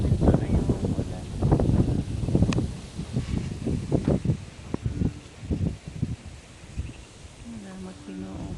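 Strong night wind gusts buffet the microphone in irregular low rumbling bursts, with rain starting, in a loud, blustery sequence under a voice speaking.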